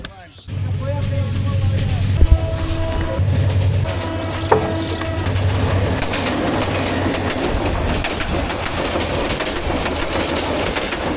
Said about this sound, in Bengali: এই মুহূর্তে যে ট্রেনটি চলে যাচ্ছে এটি হচ্ছে তিস্তা এক্সপ্রেস